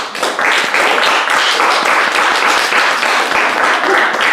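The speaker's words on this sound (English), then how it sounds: "Why don't we all give our speakers a big round of applause?" A club audience at an evening of speeches gives the speakers a big round of applause, a loud, sustained wash of many hands clapping close by.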